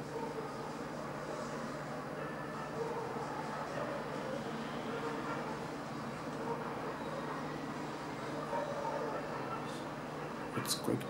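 A train passes on a rail line on a cold day, heard as a steady broad rumble and rolling-stock hiss throughout, moderately loud and somewhat distant, with a few sharper clanks near the end.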